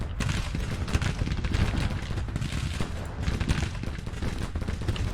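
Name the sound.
musket gunfire in Civil War video game Grand Tactician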